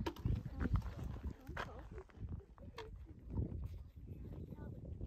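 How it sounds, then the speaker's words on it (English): Horses walk along a mountain hiking trail near a camp, with faint, irregular hoof clops over soft outdoor ambience, heard at a distance and fairly quiet while people talk nearby. "Horses."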